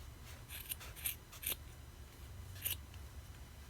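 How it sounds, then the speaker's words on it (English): Scissors snip through the loop edges of yarn for a handmade DIY ornament, giving several quiet, crisp cuts spaced irregularly over a low steady background hum. "this loop edge you're going to cut, and this loop edge you're going to cut"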